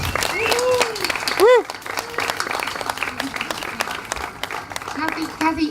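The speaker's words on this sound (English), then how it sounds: "I think they deserve a round of applause." Crowd applause at an outdoor melanoma march gathering in Brisbane, with scattered clapping running under voices and cheering.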